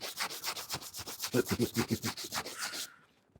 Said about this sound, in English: again with me denibbing pad, I'm just gonna give that a rub